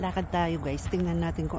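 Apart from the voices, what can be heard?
No everyday noises stand out.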